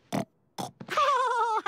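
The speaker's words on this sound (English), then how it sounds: "Oh, Humbone, you're such a funny pig" A cartoon pig grunts and squeals: two short snorting grunts, a brief third snort, then a longer, tonal, wavering squeal. All are close, loud and clear, with no talk over them.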